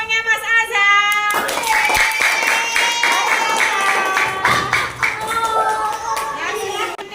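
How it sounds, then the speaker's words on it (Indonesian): Classroom of children applauding a group, a dense burst of hand clapping that keeps going for several seconds with some children's voices mixed in. "beri tepuk tangan pada kelompoknya Mas Azhar"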